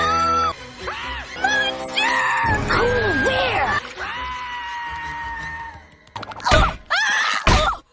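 Lenny, a cartoon character from The Loud House, lets out loud, sudden screams near the end, sharp bursts that cut in after a stretch of musical, cartoonish sound effects.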